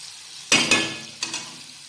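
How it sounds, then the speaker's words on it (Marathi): Chopped onion frying in a pan on a home stove, a steady crackling sizzle that bursts louder twice as it is stirred, with no one talking. "हा कांदा थोडासा ब्राऊन कलरमध्ये फ्राय झाला की त्यानंतर आपण लसूण टाकणार आहोत."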